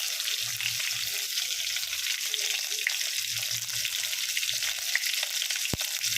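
Garlic and chopped green chilli sizzling in hot tempering oil for dal, a steady, fairly loud hiss with a sharp click near the end and faint murmuring voices in places.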